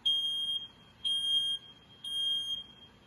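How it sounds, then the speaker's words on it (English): Three shrill electronic beeps from a smoke detector, loud and close, repeating in an even on-off rhythm. "This is called a smoke detector."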